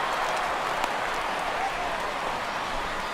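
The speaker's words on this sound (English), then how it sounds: "This crowd oohs and ahs every time this guy hits a fly ball" Stadium crowd noise from MLB The Show 16, a Dodgers versus Nationals baseball game, swells with a steady ooh as a fly ball carries to center field, a broad continuous roar throughout.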